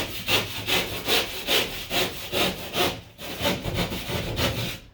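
A hand saw cuts through a drywall sheet with steady, rhythmic back-and-forth rasping strokes, loud and close, with one brief pause in the middle.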